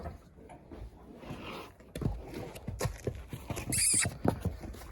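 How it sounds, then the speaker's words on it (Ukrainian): Novooleksandrivsk draft horses move nearby with soft hoof clops and thumps, stirring, snorting and shuffling, and a brief high squeal cuts in near the end. "Ці коні Олександрівські, вони взагалі безподобні."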